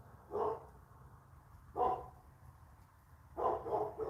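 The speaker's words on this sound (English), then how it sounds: "Those dogs." A few dogs barking in short bursts at moderate distance, three separate barks or bark clusters spaced over a few seconds against a quiet background hum, with no talking.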